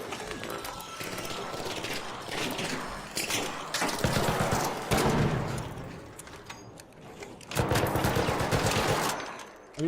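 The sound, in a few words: gunfire in video game Arc Raiders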